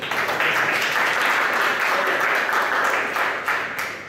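Sustained audience applause at a personal development seminar fills the room with dense, steady clapping for about four seconds, loud and continuous before tapering slightly at the end.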